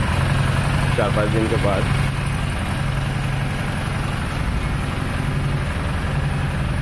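A Harley-Davidson Street Rod 750 motorcycle idles after a cold start at night, its steady low engine rumble running throughout beneath someone speaking nearby.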